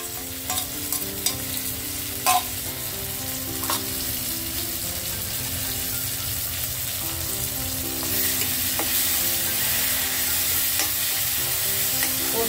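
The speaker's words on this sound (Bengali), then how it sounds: "গরম মশলা আর রসুন লঙ্কা সব দিয়ে বেটে রেখেছিলাম, সেই মশলাটা এবার একটু কষিয়ে নেব অল্প করে।" A paste of ground poppy seed, garam masala, garlic and chili fries in a pan for a chicken curry, with a steady sizzle and occasional stirring scrapes and clinks running throughout, fairly close, with no talking.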